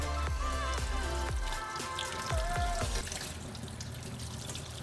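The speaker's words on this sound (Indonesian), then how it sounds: "setelah selesai disikat, dibersihkan pakai air mengalir" Water runs and splashes steadily from a tap, with irregular clatters and knocks as a crab is handled and rinsed under the flow.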